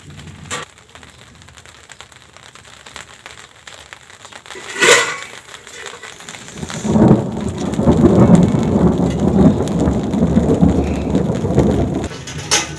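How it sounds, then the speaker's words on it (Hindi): Steady rainfall patters on a surface after a quiet start, with a sharp burst partway through, a moderate, continuous wash with no voices. "बारिश हो रही है, हल्की हल्की बारिश हो रही है"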